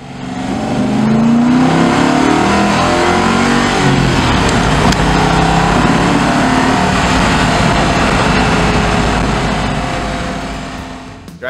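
A 1965 Ford Mustang Fastback's engine revs loudly and steadily while driving, a close, continuous throaty roar that rises and falls slightly and holds for the whole stretch with no talking.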